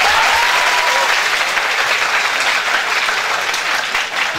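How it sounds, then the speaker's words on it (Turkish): Audience at a flower introduction and training seminar in Haymana applauding a participant named Muhammed, loud dense clapping filling the room and holding steady throughout before easing slightly at the end. "Muhammed'e alkış."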